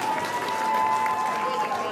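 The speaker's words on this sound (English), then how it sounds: "Put a clap for the ghost." An audience at a live comedy show applauds, giving a steady wash of clapping that goes on throughout, with voices mixed in.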